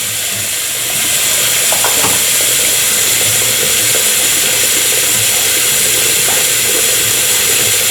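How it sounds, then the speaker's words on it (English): Hot water runs from a tap into a sink for a shave, a steady, close rushing and splashing that swells after the first second and continues without pause. "Let's get this sink filled up with some hot water."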